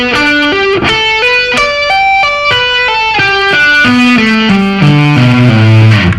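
Electric guitar playing a sweep-picked arpeggio at a slow tempo, each note distinct and evenly spaced as the lines climb and descend in a clean, slightly driven tone, loud and close with no talking.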